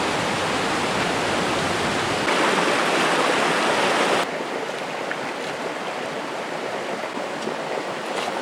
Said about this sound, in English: Looking for a spot to go hang out by the brook for a little while.